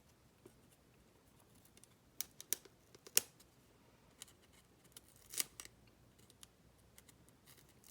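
Small scissors snipping the binding threads of old vintage book signatures, a few crisp, quiet clicks and snips spaced irregularly with faint paper rustling, close and alone without talk.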